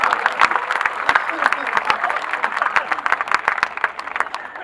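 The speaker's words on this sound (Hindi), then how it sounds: "तालियां एक बार जरा खुल के फिर पता चलेगा।" Audience applause at a comedy show, a few seconds of brisk, crisp clapping from a crowd, sharp individual claps standing out over a general patter.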